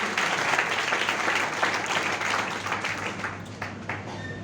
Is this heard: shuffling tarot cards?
no